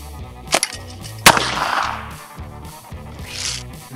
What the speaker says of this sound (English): he's going to try and hit with the .22 pistol